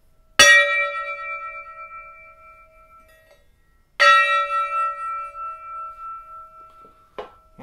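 A sound therapy spin gong struck twice with a stick, each hit a bright metallic strike that rings out in long shimmering sustained tones and slowly decays, with a faint tap near the end.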